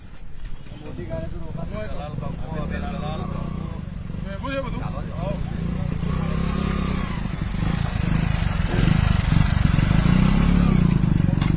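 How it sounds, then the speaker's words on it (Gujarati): Motorcycles pass along a pothole-ridden road in Padra during a local protest event, their steady engine rumble building gradually and staying loud beneath continuous overlapping talk from a crowd. "બાઈકો આ બાજુ સાઈડમાં રહીને નીકળી જવા દો"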